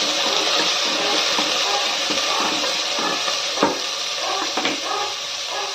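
Onions frying in a pan for corn coconut milk pulao, a steady broadband sizzle with occasional soft scrapes and taps of a spoon, close and continuous with no talking.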